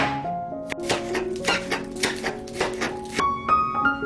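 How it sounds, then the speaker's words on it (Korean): A knife slices a scallion stalk on a cutting board in quick, evenly spaced taps, close by, over soft background music. "쪽파 한 대는 송송 썰어주세요"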